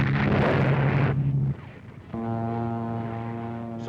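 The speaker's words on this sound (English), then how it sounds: "Salvos of bombs frustrate every attempt of the Nazis to concentrate reserves and supplies." Salvos of bombs burst in a 1943 wartime newsreel over North Africa: a deep, loud rumbling blast dies away, then a low droning tone swells up and holds.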